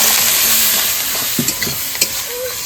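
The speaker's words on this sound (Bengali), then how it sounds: "তো পেঁয়াজ আর টমেটোটা ভাজা হয়ে গেছে" Onion and tomato fry with turmeric in a pan, giving a continuous close sizzle broken by several sharp clicks and scrapes of a spoon stirring. No one speaks.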